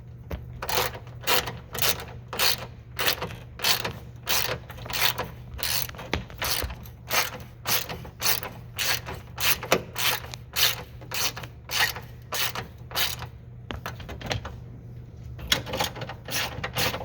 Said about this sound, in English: I rarely run a socket wrench without an extension